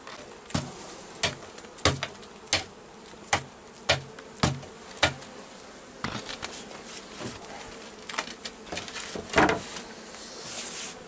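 Honey bees hum steadily around an opened hive during the summer honey harvest. A series of regular, sharp taps and knocks from handling the hive frames rises above the soft buzzing.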